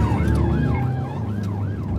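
An ambulance siren wails in a steady rising-and-falling cycle, loud and continuous, over a low road and engine rumble as a police car follows a couple of vehicles behind it in traffic.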